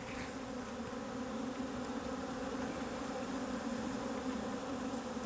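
Honey bees buzz at a rooftop hive during an inspection, a dense, steady, continuous drone close by with no talking.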